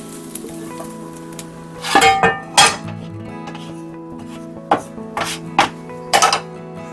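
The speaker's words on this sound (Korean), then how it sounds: "일단 그릇에 이렇게 담았고요" Cooked kimbap fillings being set into a tray-style bowl in a home kitchen, with a faint sizzle beneath and several sharp clinks and knocks of dishes and utensils arriving in small clusters, close and distinct.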